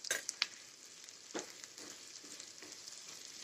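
Drumstick vegetable curry sizzles steadily in a pan as it fries, with a few light scraping stirs of a spoon against the pan, close and fairly quiet with no talking.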